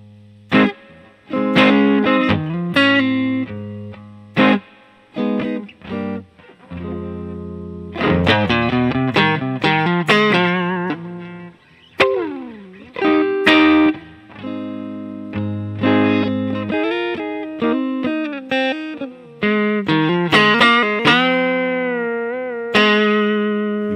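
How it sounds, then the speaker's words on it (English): Electric guitar with thick fuzz distortion plays choppy chords and single notes, with sharp picked attacks, sustained gritty tones and short pauses between phrases. "you dig in and you get some dynamics with the fuzz"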